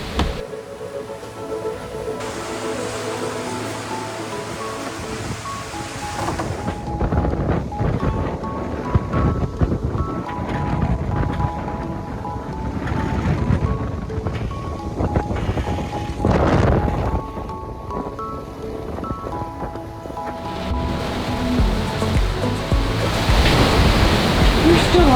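Wind and ocean waves around a fast-moving sailboat on a passage to South Africa, a steady broadband rush of wind buffeting the microphone and surf washing against the hull, loud and continuous with swells rising and falling throughout.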